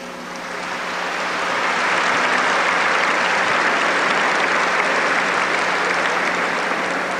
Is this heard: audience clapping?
yes